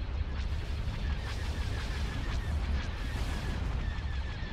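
Starship weapons fire in the Star Wars space strategy game Empire at War, a dense rumbling barrage of booming blasts and laser volleys, sustained and fairly distant-sounding, with no talk.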